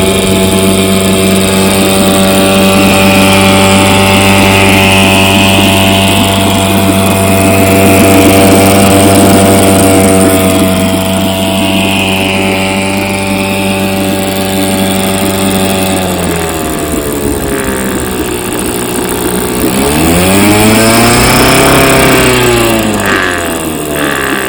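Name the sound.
vintage motor running after carburetor cleaning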